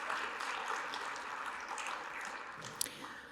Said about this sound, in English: Let's give all of those people a round of applause.